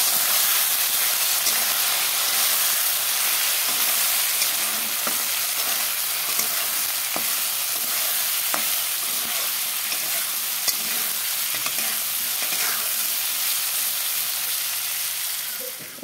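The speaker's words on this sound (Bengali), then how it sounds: "আলুটাকে লাল করে ভেজে নেব।" Potatoes fry in hot oil with turmeric and salt, a loud, steady hiss and sizzle running the whole time with occasional faint stirring taps, close up and without voices.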